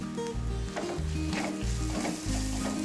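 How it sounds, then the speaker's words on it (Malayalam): Crushed dried red chilli fries in hot oil in a pan for a Kochi-style fish curry, a steady close hiss of sizzling broken by stirring scrapes, with no voices. "വറ്റൽ മുളക് ചതച്ചതാണ് ചേർക്കുന്നത് കേട്ടോ. അതൊന്ന് മൂപ്പിക്കാം."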